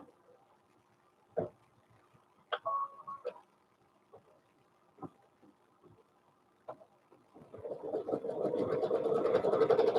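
An embroidery machine stitching a design on a sweatshirt starts up after several scattered clicks and knocks, building into a steady rapid mechanical whirring over the final seconds.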